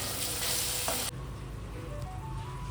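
A thickening curry of elephant foot yam and Malabar spinach simmers and sizzles steadily in a pan, oil rising to the surface, with a faint clink partway through and a quieter bubbling hiss afterward.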